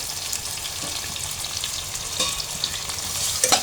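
Shrimp frying with onion and green chili in a new pot over a gas flame, a steady close sizzle with a few soft stirring clicks and scrapes, no voices.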